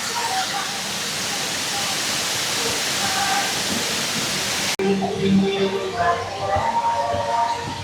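Steady broadband rushing of a waterfall in Chiang Rai, Thailand fills the scene, with an abrupt cut midway to a busier ambience with faint voices.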